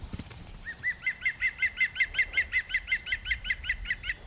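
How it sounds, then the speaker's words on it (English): A woodpecker in the British countryside gives its laughing call: a rapid, even series of about eighteen loud, ringing notes that slow slightly toward the end, clear and alone. "It's the bird that laughs at you when you're out."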